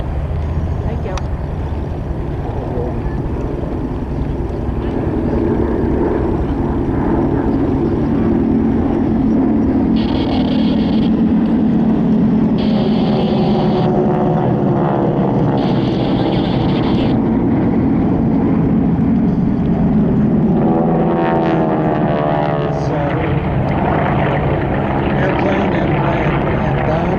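An L-29 Delfin jet in a parade of WWII trainer aircraft at an airshow drones steadily overhead, its engine noise rising and falling at a distance while an announcer talks throughout.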